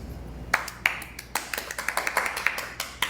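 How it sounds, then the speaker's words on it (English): A small group at a livestream clapping unevenly, with distinct individual claps landing close together in a loose, scattered rhythm rather than a full ovation. "Give yourself a clap."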